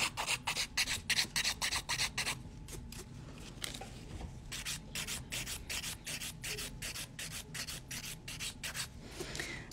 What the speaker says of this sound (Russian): только поверхность свободного края пиливаю